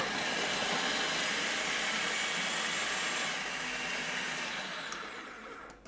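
A food processor whirs steadily as it blends chicken liver pâté, a constant high motor drone lasting several seconds before cutting off abruptly; no talking.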